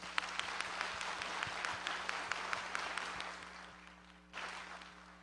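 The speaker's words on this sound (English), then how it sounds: "So please give them a big round of applause." Audience applause for legislators at a State of the County address, fairly faint and distant, with scattered distinct claps over steady room hum; it thins out near the end, then swells briefly again.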